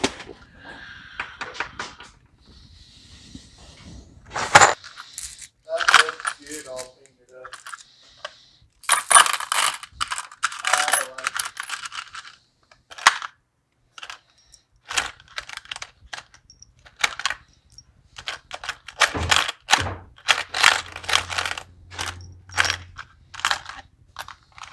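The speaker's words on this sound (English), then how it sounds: "Trying to find some screws because the ones they gave me are not long enough." Small metal screws rattled and clinked while someone rummages through them for longer ones, a sparse run of close, sharp jingles and clicks with brief pauses and no talking.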